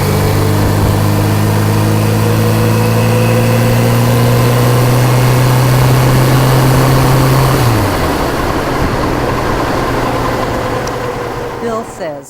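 A touring motorcycle engine hums steadily on an open road toward Ohio, a loud sustained drone whose pitch holds and then drops as the bike slows, fading near the end.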